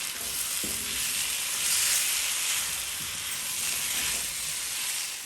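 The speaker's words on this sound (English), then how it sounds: "Now I'm going to fry this again for the next few minutes until my sugar is melted" Mango pieces fry with sugar in a pan until the sugar melts and caramelizes for Guyanese guromba, giving a steady, close sizzle with a few scraping stirs throughout.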